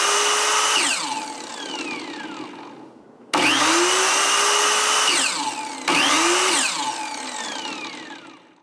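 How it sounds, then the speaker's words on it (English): Ryobi 10 amp 7-1/4 inch miter saw (TSS701) running with no load: a loud motor whine starts up three times, each run spinning down with a falling pitch before the next start, no voices. "let's hear what this thing sounds like"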